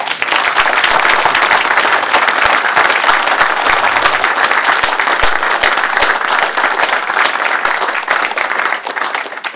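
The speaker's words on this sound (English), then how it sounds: "It's good when they clap before I've quite finished what I was going to say" Loud, sustained applause from an audience at a railway and heritage bus friends meeting, after a presentation, many hands clapping in a dense, even roar that holds steady throughout.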